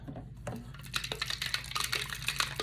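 Ingredients being mixed in a bowl, giving a steady run of scraping, clinking strokes with a soft wet edge, close and moderately loud, with no talking.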